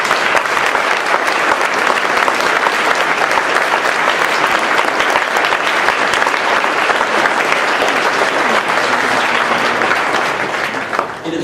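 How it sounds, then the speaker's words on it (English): An audience at a high school Veteran's Day program gives a singer named Carmen sustained, loud applause, steady clapping that tapers off slightly at the end. "Let's give Carmen a round of applause."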